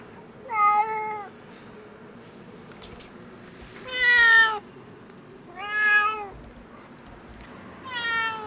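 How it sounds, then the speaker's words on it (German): A cat meows loudly four times, each call drawn out and wavering, separated by short quiet gaps over a low background hum. "Wir haben da eine Katze, die miaut so laut."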